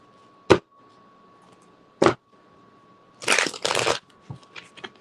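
Two sharp snaps, then a quick papery burst of cards riffling together for under a second, followed by a few softer taps.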